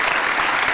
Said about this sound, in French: D'accord, on l'applaudit, c'est la première.